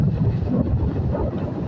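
Sea water surging and splashing in strong wind, a low, rolling rumble of waves mixed with wind buffeting the microphone, steady and fairly loud for a brief moment.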